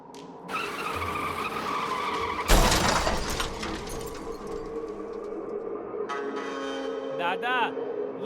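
A motorbike skids on a road slick with spilled chemical and crashes down, a sudden loud scrape and impact midway, followed by rattling debris, with a brief squealing whine near the end and no talk.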